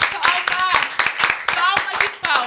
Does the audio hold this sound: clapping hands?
yes